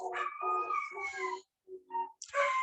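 Dogs howl and whine close by in drawn-out, wavering cries with brief yips, broken by a short pause before a final rising howl.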